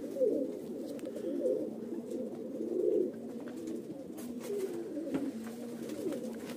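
Pigeons cooing close by in repeated low, throaty phrases that overlap and roll on without pause.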